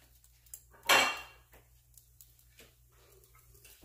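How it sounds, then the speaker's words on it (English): A metal utensil clanks sharply against a pan once while shrimp is lifted out, followed by a few lighter scrapes and taps against a quiet background hum. "I'm gonna take out my shrimp."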